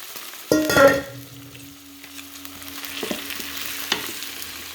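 White mushrooms fry in a skillet with chicken for a Thai coconut dish: a soft continuous sizzle with a louder burst near the start and a few light stirring clicks later.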